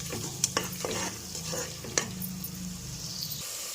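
Chicken biryani masala with paste is stirred and fried in a pot, with a steady sizzle under repeated scraping strokes of a spoon against the pan. The sound is close and moderately loud.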